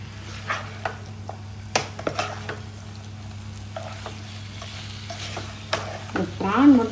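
Prawns are sautéed in a pan for a prawn thokku, with a soft background sizzle broken by irregular scrapes and clicks of stirring, close and fairly quiet, and no voice.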